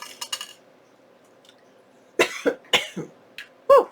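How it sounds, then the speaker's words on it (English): Several sharp coughs in a quick cluster, close and fairly loud, with faint clinks just before and a brief pause partway through. "I started coughing"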